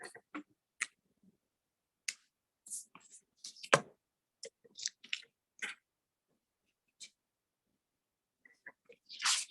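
A single sneeze bursts out among scattered clicks and small handling noises in a quiet room, with brief moments of faint speech nearby.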